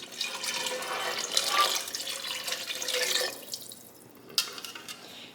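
Water runs from a kitchen tap into a vessel for low-carb French onion soup, a close, steady splashing stream that changes pitch as it fills, then stops with a few brief drips and a final splash.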